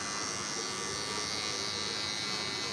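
Wahl electric hair clippers buzz steadily and loudly up close during a live barbershop haircut, a constant drone with no pauses and no talking.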